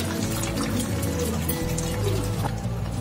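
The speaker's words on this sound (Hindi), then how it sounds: "इसमें मैं थोड़ा पानी डालूंगी अभी" Water is poured into a potato and spinach curry in a cooking pot, giving a short, continuous close splashing pour with no talking.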